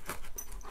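A dog pants close by in quick, steady breaths, heard alone during a package opening at home.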